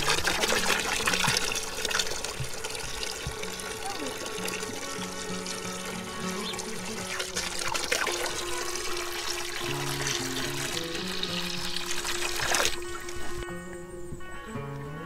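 Water pours and trickles steadily on a farm in Morocco, a continuous close wash of liquid that runs unbroken for the whole stretch with no talking.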